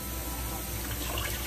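Boiled green beans are tipped out of boiling water into cold water, a brief, dense rush of splashing and pouring liquid at even loudness throughout.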